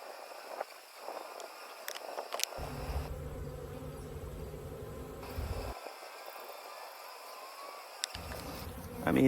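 Honey bees buzz steadily around a capped honeycomb frame being brushed off during a honey harvest, a close, continuous droning hum with no talking.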